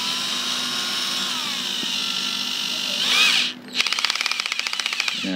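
An NRT PRO 340 cordless drill driving a screw: a steady high motor whine gives way to a rapid rattling, impact-like hammering as the screw is driven, loud and close.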